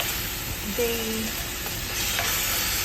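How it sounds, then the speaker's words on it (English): Sweet onion and garlic sauté in a pan with a steady, close sizzle, and a brief utensil stir scrapes through the middle; no one talks. "I'm sauteing some of my sweet onion and garlic"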